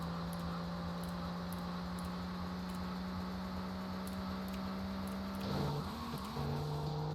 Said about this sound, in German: Zum Glück haben wir ein bisschen schnelleres Auto das mal.